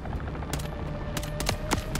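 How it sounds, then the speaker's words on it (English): Enemy gunfire in Call of Duty Modern Warfare 3, several sharp individual shots spaced irregularly across two seconds over a low rumbling game background. "There's enemy fire."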